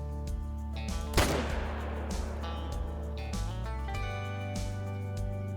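A single sharp M1 rifle shot rings out in the hunting game theHunter: Call of the Wild, followed by a decaying echo over a steady background hum with music.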